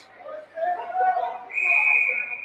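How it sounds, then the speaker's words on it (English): A referee's whistle blows sharp and steady during a youth 10U ice hockey game in a rink. It rises out of crowd chatter and commentary that run beneath it. "And a whistle."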